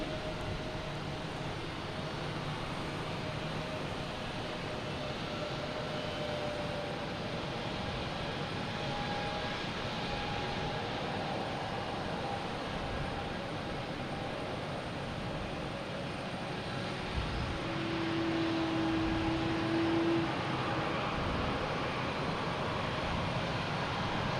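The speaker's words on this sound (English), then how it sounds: "next to arrive is a A220 coming from JFK, flight 318" A JetBlue Airbus A220 arriving from JFK at Boston Logan, a faint, distant engine hum that stays steady for most of the clip and grows a little louder near the end, with no talk.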